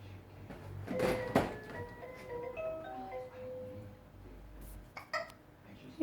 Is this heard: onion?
no